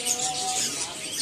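Dense, overlapping chirps and tweets from many caged songbirds fill the Pramuka bird market, steady and close throughout with no talking.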